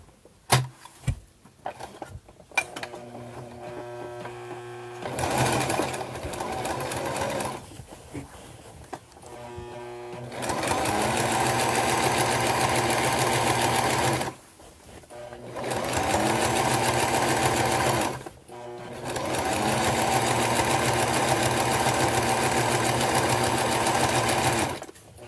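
A sewing machine stitching a fabric organizer in a home craft setting, loud and close. It runs in several long sustained bursts with a steady mechanical whir, and brief pauses and handling noises come between the runs.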